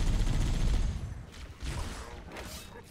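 A Warthog's mounted turret fires in Halo: Combat Evolved, loud rapid bursts of gunfire rattling close by with short gaps between volleys.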